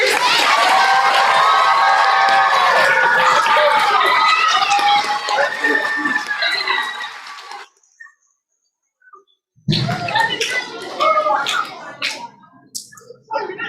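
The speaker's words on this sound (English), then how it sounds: "give a round of applause to our leaders and their teachers" A large crowd at an elementary school fifth-grade graduation ceremony claps and cheers loudly for several seconds, the noise breaking off abruptly into near silence before scattered clapping and shouts resume.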